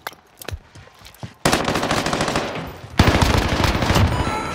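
PPSh submachine gun firing in the Warzone video game: a loud, dense automatic burst that starts abruptly after a few quieter sounds, then grows heavier and continues without pause to the end.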